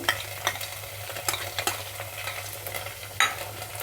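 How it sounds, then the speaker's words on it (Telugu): Gobi Manchurian, cauliflower tossed with soy, Schezwan and tomato sauces, gets stirred in a sizzling pan, with repeated spatula scrapes and clacks over a steady frying hiss. "సోయా సోయా సాసు అన్నీ వేసాం కదా ఇప్పుడు బాగా మనం కలుపుకున్నాం ఇవన్నీ"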